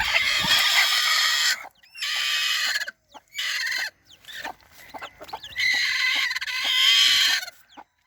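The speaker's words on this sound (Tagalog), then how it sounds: "yung mga sisiw ng aking manok" A hen and her newly hatched chicks cluck and peep in repeated bursts, with bright chirping calls breaking off into short pauses, close and fairly loud.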